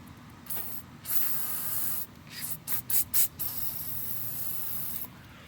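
An aerosol can sprays lubricant onto the front right strut bolts of a 2008 Toyota Corolla: a long close hiss, then several short rapid bursts, then another sustained spray.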